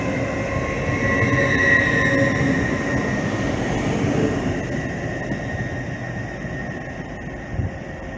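A Class 803 electric train, unit 803002, moves through York station with a steady rumble of wheels on rails and a faint high squeal, loudest early and easing off toward the end, without any talk.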